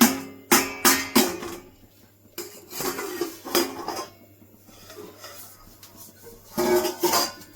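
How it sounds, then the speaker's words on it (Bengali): A metal lid comes off a cake pan holding a no-oven mango cake: a loud series of clanks, scrapes and rattles of cookware, close and alone without speech. "ঢাকনা খুলে দেখে নেব।"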